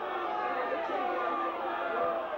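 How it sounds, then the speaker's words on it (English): Crowd at a 1988 professional boxing bout in Bradford yelling and shouting continuously, a dense steady roar of many voices filling the hall. "Crowd yelling for the kill now"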